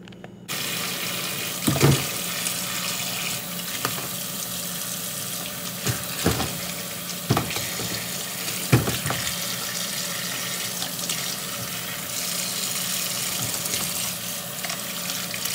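Kitchen tap water runs steadily into a sink while celery and other produce are washed, a constant close hiss broken by occasional splashes, knocks and clatters of handling.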